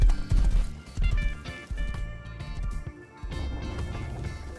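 Horse hooves clip-clop loudly and close in the survival game Rust, steady galloping thuds over low rumbling game ambience, with an occasional whinny.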